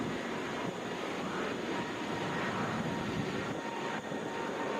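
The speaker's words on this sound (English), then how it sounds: "Frontier flight 455, headed to Denver." A Frontier Airlines Airbus A320 bound for Denver rumbles steadily at an airport, a broad, distant engine roar that holds evenly throughout.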